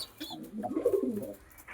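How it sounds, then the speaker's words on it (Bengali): A pet male pigeon cooing close by, one soft low throaty coo lasting about a second against a quiet room. "এটা হচ্ছে আরেকটি নর কবুতর"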